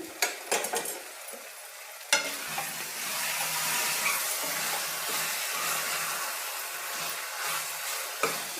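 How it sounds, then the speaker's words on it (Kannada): Brinjal frying over low heat in a pan, a steady soft sizzle with scraping stir strokes throughout, a few sharper utensil knocks near the start and end, no voices. "ಸಣ್ಣದಾಗಿ ಉರಿ ಇಟ್ಕೊಂಡು ಈ ಥರನೇ ಫ್ರೈ ಮಾಡ್ಕೋಬೇಕು"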